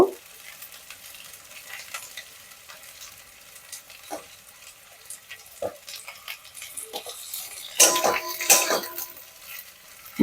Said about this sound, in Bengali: লঙ্কাটা একটু ভেজে নেব